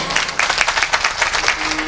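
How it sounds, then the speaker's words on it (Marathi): A crowd at a kirtan bursts into loud, rapid applause, a dense clatter of many hands clapping close by for a couple of seconds. "एकदा जोरदार टाळ्या वाजवा"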